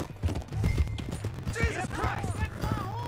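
Horse hooves clip-clop in a Red Dead Redemption 2 game scene, a steady trotting rhythm mixed with game sound effects and voices talking over it.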